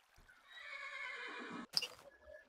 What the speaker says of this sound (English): So here's a unicorn.